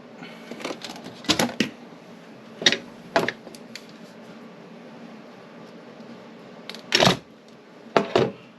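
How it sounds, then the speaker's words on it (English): Wire cutters snip off the ends of soldered wires, giving sharp isolated clicks and snaps scattered at uneven intervals over a quiet background, close by with no talk. "I could just snip it off at the end"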